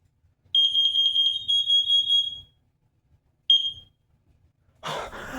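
A home smoke and carbon monoxide alarm sounds a loud, piercing electronic tone in rapid pulses that run for about two seconds, then one short repeat burst, followed by a brief rustling noise.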